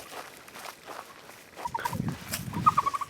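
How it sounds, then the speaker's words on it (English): Turkeys and a few chickens out in a wheat field on a quiet evening, with faint gobbling and clucks at a distance and soft footsteps moving closer in the second half. "Turkeys and a few chickens are out in the wheat field."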